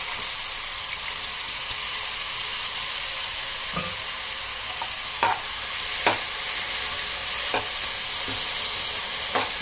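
Chopped cabbage stir-frying in a pan of tempering on a high flame, with a steady broad sizzle running throughout and occasional sharp crackles and spatula scrapes standing out.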